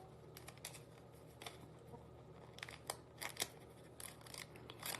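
Repeated quiet snips and crinkly cuts of thin foil, irregular and close, with a low steady hum underneath and no talking.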